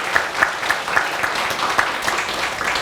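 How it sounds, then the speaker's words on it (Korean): A church congregation applauds visiting pastors at an anniversary thanksgiving service, brief moderate clapping with distinct individual claps rising from a background of hands. "우리 감사의 박수 돌리도록 하겠습니다"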